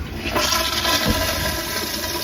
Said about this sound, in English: Let's flush this toilet.